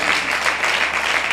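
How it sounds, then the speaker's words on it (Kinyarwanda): Church congregation clapping for Jesus during a sermon, a short burst of steady, fairly loud mixed applause heard alone. "Amashyi menshi ku mwami Yesu."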